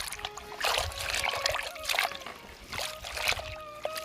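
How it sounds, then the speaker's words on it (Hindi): Spinach leaves sloshed and splashed by hand in a bucket of water outdoors, giving repeated bursts of splashing and trickling close by, with quiet gaps between them. "मैंने इस बाल्टी में पालक भी डाल दिया है धोने के लिए।"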